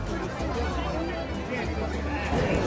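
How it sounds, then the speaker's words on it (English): Dense crowd chatter of tourists outside the Colosseum in Rome, a steady babble of many overlapping voices at moderate distance with no single speaker standing out, holding level throughout. "Look at the crowd."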